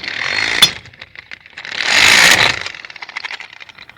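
An Einhell CC-HS 12/2 12 V car impact wrench loosening a car wheel nut, giving two loud buzzing, hammering bursts with a sharp click between them and a faster rattling tail, close up with no talking.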